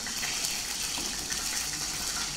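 Water running steadily from a tap while cooking, a continuous gushing splash heard up close with no talking.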